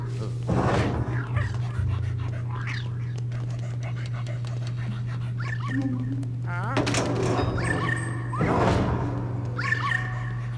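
Polterpup, the ghost dog in Luigi's Mansion 3, pants in quick breathy bursts over a steady low game hum, with faint whimpers and soft thunks now and then.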